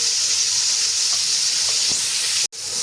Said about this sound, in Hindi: और अब इसमें ये 2 टमाटर और जो मैंने छोटा सा प्याज लिया था वो इसमें डालकर इसकी भुनाई करती हूँ।